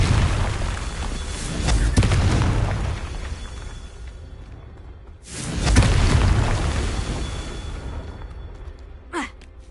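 Two deep, rumbling fire-spell explosions from the Hogwarts Legacy video game swell and fade several seconds apart, followed by a short sharp pop near the end.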